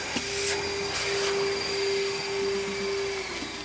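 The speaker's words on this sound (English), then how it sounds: "we vacuum out what's left, and then we can hoist the final product" A vacuum steadily sucks residual water from the top of a large harvested ice block, making a continuous whining hum with a strong steady tone, close and unbroken.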